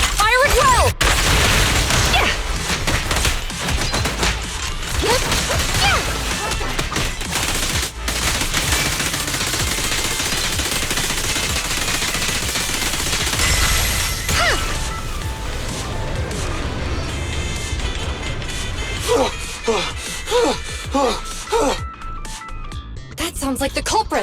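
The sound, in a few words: gunfire volley in the video game Zenless Zone Zero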